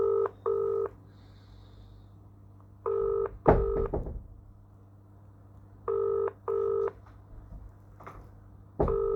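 Touch-tone keypad beeps dialing a Vodafone mobile number, short paired tones in quick bursts of two or three separated by pauses, over a steady low hum with a brief clunk partway through.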